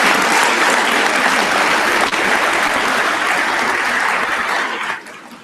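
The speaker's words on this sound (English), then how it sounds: "Yeah, clap." Loud, dense clapping fills a school assembly hall, a sustained crowd of students applauding close and even for about five seconds before it cuts away sharply at the end.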